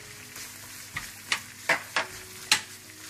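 Spiced potato samosa filling with kasuri methi, crushed red chilli and anardana being roasted in a pan, a spoon scraping and knocking in five or so sharp strokes over a low frying hiss, close with no talk.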